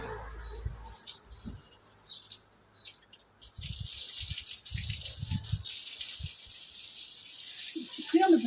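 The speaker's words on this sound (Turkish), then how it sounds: "Masamızı yıkıyorum şimdi. Yerlerimizi yıkıyorum." Water splashes and gushes as a table and floor are washed, starting patchy and then running into a steady outdoor rush with occasional knocks and bird chirps, while people talk in Turkish at times.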